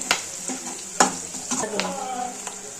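Masala for mutton gravy is stirred and fried in a pan, with several sharp scraping strokes over a steady close sizzle, a little faint talk underneath.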